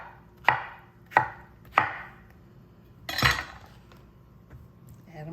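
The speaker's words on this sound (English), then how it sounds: "and just chop them" Knife chopping fruit pieces for a fresh fruit salad on a cutting board: three sharp, evenly spaced chops, a louder clattering knock, then a light clink, close and with no talking.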